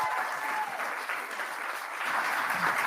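Theater audience at a season celebration breaks into steady applause, a continuous wash of clapping at moderate level, swelling slightly toward the end.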